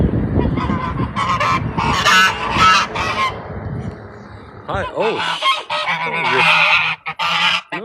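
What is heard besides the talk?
geese honking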